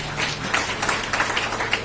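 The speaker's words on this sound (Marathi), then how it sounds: "इनके लिए जोरदार ताली बजाइए अशोक जी के लिए" Live audience at a Marathi and Hindi public gathering gives a short burst of hand clapping, steady and moderately loud with a few sharper peaks, sustained across the moment without speech over it.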